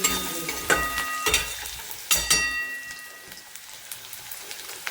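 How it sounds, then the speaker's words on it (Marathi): Chopped onion stirred in a hot pan for puri bhaji in a village kitchen, with a steady soft sizzle and a few sharp scraping stirs near the start, no talking. "कांदा टाकूया. तर कांदा लाल होईपर्यंत"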